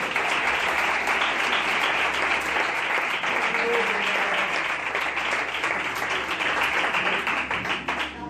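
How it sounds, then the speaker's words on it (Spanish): A church congregation applauds with dense, continuous clapping that holds steady for several seconds and then tapers slightly at the end, filling the room loudly. "¡Aplaude, por favor!"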